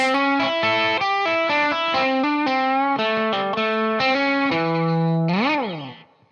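A distorted electric guitar plays a quick melodic phrase, then finishes with a smooth slide upward in pitch that fades out.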